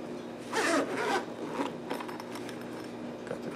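A zipper on a semi-hard radar detector carrying case pulled open in two quick rasping strokes, close by, followed by softer scraping and handling noises.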